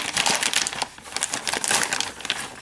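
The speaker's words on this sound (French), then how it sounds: "il faut bien entendu déballer les pièces" Eaglemoss Ecto-1 1/8 scale model kit parts being unpacked, with dense, continuous crinkling and rustling of plastic packaging close up, steady and fairly loud throughout.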